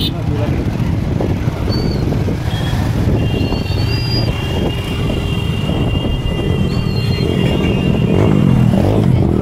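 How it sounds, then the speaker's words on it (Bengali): A motorbike rides through shallow water along a beach, its engine droning loudly and steadily up close, mixed with heavy wind rush throughout. "আর জলগুলোতে জল ছাপিয়ে আমি বাইক চালাচ্ছি"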